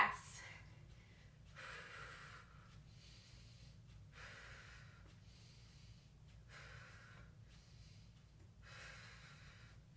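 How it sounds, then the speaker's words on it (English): Deep, rhythmic breathing during a low-impact beginner cardio and strength workout, about five faint, breathy huffs spaced evenly over a low hum of background music. "Deep breaths."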